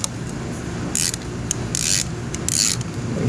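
Bolt being screwed in during a front brake change on a 2013 Honda GoldWing GL1800 F6B, heard as three short bursts of creaking, ratcheting metal over a steady low background hum.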